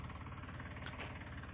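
A tractor engine runs steadily with a low, knocking idle rumble, faint and continuous throughout, with no voices over it.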